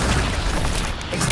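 A fiery Incendio spell blast in Hogwarts Legacy on PS5 erupts as a loud, dense boom with rumbling low end, sustained over a short burst.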